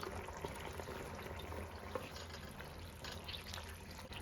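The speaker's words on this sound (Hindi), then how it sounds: "पानी में बॉईल आ गया है" Water simmering and bubbling in a pan of green chickpeas (hare chane) for a paneer curry, a steady soft hiss and bubbling at low level throughout.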